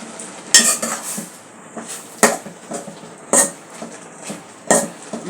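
Malabar spinach leaves and tips stirred in a covered cooking pot: a few sharp metal clanks and scrapes of a utensil against the pot, spaced about a second apart over a low background, with no voices.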